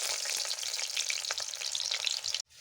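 Onions sizzle steadily in hot mustard oil in a pan, a close, bright, continuous frying hiss with faint stirring scrapes that cuts off abruptly near the end.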